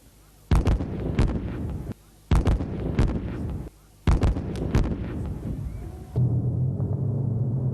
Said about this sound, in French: Et là, ce sont des tirs réels et ça va faire beaucoup de bruit.